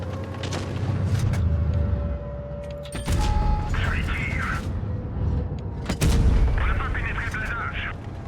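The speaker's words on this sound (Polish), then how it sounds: "Dobra, magazynek wystrzelony, cofamy się." Heavy booming cannon shots from an AMX 50B tank emptying its autoloader magazine in WoT Blitz, a few spaced blasts over constant engine rumble and battle noise, with talk over parts of it.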